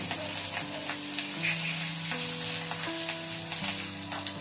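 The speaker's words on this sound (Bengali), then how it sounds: "তেলটা গরম করে দিয়ে দিব কাঁচামরিচ, রসুনটাকে থেঁতে করে দিয়েছি" Green chilies and crushed garlic fry in hot oil in a kadai for a red amaranth greens dish, giving a steady, close crackling sizzle with stirring and a constant tonal hum beneath.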